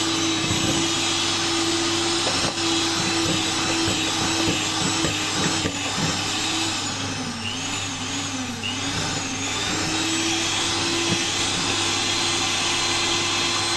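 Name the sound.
blender blending lava cake batter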